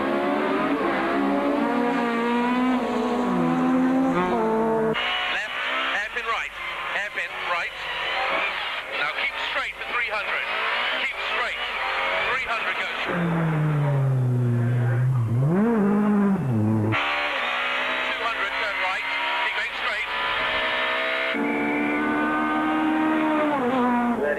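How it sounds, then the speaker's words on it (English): Rally cars from the 2003 Sasol Rally race head-to-head through a stage, engines revving and changing pitch as they accelerate and brake, loud and continuous with tyre noise and background voices throughout. "two cars go head-to-head against each other, although they take different routes through the stage"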